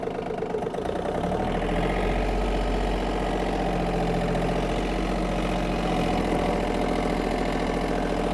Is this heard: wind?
no